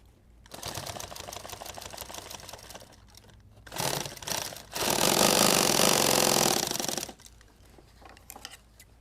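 A sewing machine stitches in rapid, mechanical bursts: a sustained run, a brief pause, then a louder, steady whirring stretch of stitching before it stops and scattered handling noises follow.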